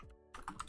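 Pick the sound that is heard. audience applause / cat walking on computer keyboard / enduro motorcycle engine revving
cat walking on computer keyboard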